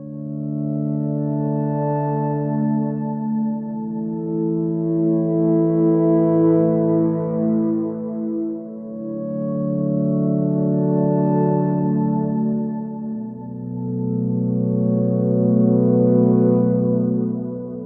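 Sustained synth chords swell and shift slowly, washed in a long, resonant reverb that blurs each change into the next.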